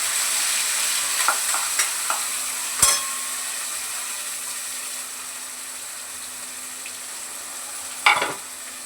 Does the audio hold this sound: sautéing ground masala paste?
yes